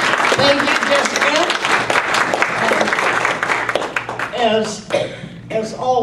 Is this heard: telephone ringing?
no